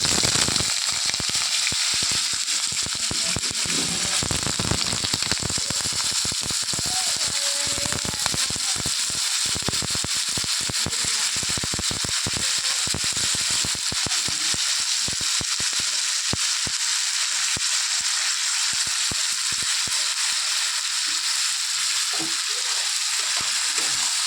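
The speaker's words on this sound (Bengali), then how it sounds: "আলু ভাজাটা ভেজে নিই ঝটপট" Potatoes fry in a wok with a loud, continuous sizzle and dense crackling pops that hold steady throughout, heard close up with no talking.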